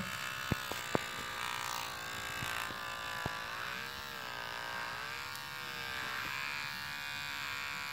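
Electric clippers trim a female guinea pig's fur during a hygiene grooming, giving a steady close buzzing drone with a few sharp clicks near the start and no voices.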